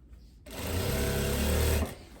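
A sewing machine runs in one continuous burst of just over a second, whirring loud and close as it stitches down a thin folded hem along an overlocked fabric edge.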